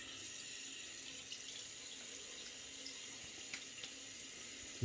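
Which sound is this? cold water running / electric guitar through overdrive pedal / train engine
cold water running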